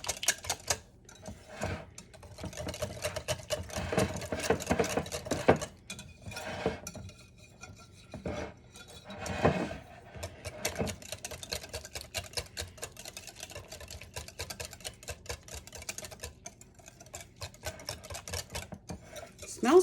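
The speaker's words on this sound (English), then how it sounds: "And whisk that up really good." Whisk clattering rapidly against a bowl while pie filling is mixed, a quick uneven ticking and scraping rhythm, close and moderately quiet.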